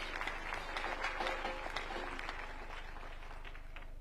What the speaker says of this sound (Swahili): tumpe Bwana Yesu makofi mazuri ya baraka